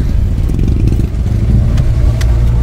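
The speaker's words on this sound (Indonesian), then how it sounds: "Ini kenceng banget itu motor." A loud motorcycle engine drones close by on a mountain road near Bromo, Indonesia. Its heavy low rumble holds steady throughout, as from riding alongside or passing, and no one speaks.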